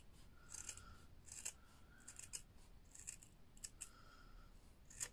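Scissors snipping paper lace ribbon for a beginner craft box, a string of short crisp cuts in an uneven rhythm, close and fairly quiet with no talking.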